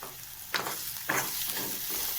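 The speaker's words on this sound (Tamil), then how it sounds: "கடுகு நல்லா பொரிஞ்சதுக்கப்புறமா நான் வெங்காயம் ஆட் பண்ணிட்டேன்." Onions with mustard seeds sautéing in hot oil for a potato-stuffed dosa roll filling, a soft continuous sizzle broken by two or three louder stirring scrapes, close by and without talk.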